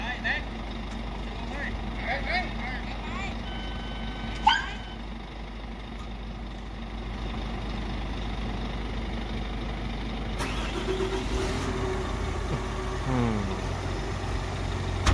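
A new 2020 CAT 320 Next Generation excavator engine idles steadily after starting, a smooth low drone that runs throughout. A sharp click sounds near the start.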